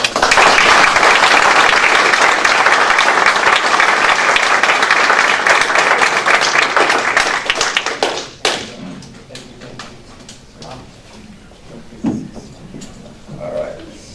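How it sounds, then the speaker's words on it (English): An audience at a city council meeting gives loud, dense applause after a swearing-in. The clapping goes on for about eight seconds, then stops suddenly, leaving quiet room noise and a few faint thumps. "Let's give him a big round of applause."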